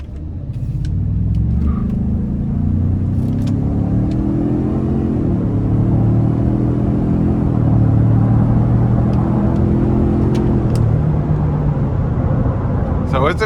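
A 2017 Ford F-150 Platinum EcoBoost pickup's engine rumbles and climbs in pitch as it accelerates hard through gears, not in sport mode, loud and close, steady for several seconds.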